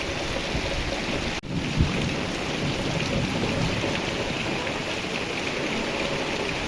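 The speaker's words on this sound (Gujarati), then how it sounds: "હજી કડાકા ને ભડાકા એક ધારું ચાલુ છે" Downpour in Dhoraji, Gujarat, during a thunderstorm: continuous heavy rain hiss with a sudden sharp crack followed by a brief low rumble early on.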